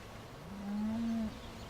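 A single cow moos once on a farm, a low drawn-out bellow lasting under a second, at moderate distance and fairly faint, with no talk.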